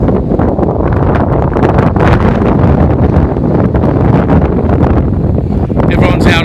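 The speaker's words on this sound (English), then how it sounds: "Nice breeze though." Blustery wind on a hot, sunny day in Sydney, buffeting the microphone as loud, continuous rushing noise with no pauses.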